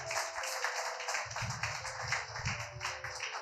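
A church congregation claps and cheers in praise of God during a French-language sermon, with a dense, steady patter of hands and a tapping rhythm running throughout at close range.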